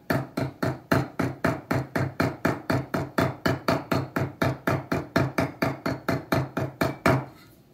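A saw blade held against a hammer clamped in a vise is struck along its teeth to take out excess set, about two dozen sharp metallic blows in a fast, even rhythm, close and loud, with no voice.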